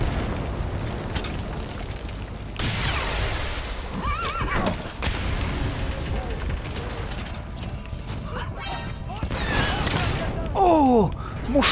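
A horse neighs in the video game Metal Gear Solid V, a shrill whinny rising out of a busy, noisy game soundtrack with rumbling effects and clattering near the end.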